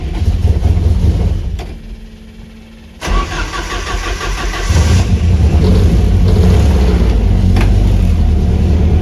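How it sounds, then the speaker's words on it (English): A Ford Escort Mk1 cold start: a loud engine cranks and stumbles, briefly drops, then catches with a sharp burst and settles into a rough, steady idle, close up, with no talking. "Cold start doesn't seem to be too effective."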